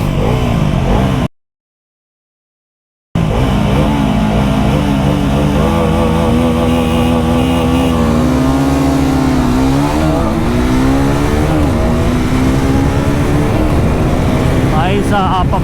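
Two motorcycles, a Triumph Speed 400 and a Bajaj Pulsar NS400, accelerating hard in a performance test, their engines rising in pitch through the gears with steady loud drone, a brief dropout early on, and speech mixed in.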